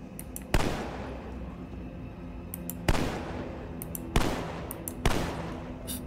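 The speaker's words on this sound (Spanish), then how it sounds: "Disparo, retrocedo." Four sharp gunshots ring out at irregular intervals in the video game The Walking Dead: Survival Instinct, each with a short echoing tail over a steady low background hum.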